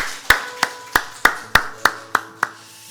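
During a Korean church morning worship service, a congregation claps in thanks and praise with eight crisp, evenly spaced claps, ringing slightly in the room.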